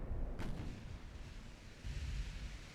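A naval gun fires a high-explosive shell during a Japanese-versus-Chinese warship battle in Ultimate Admiral Dreadnoughts, one distant booming report followed by low rumbling.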